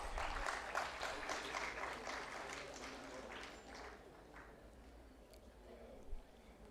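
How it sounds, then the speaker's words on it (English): An audience at an energy leadership panel applauds the speakers, a dense burst of clapping that fades after a few seconds to quieter room noise. "Can you please have a huge round of applause for all our speakers?"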